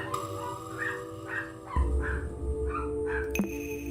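Dogs in a video game bark and yip in quick, repeated bursts, fairly close, over a low rumbling game ambience, with a heavier thud partway through.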